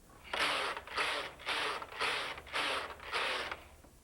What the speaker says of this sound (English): First of all, knit and get yourself 10 rows on the machine.